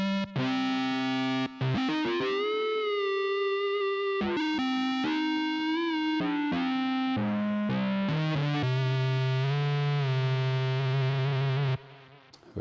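Pitched-down Roland JV-1080 rompler patches run through heavy distortion, sounding as loud, buzzing, harmonically rich sustained synth tones that shift pitch in overlapping phrases with brief gaps, no voices.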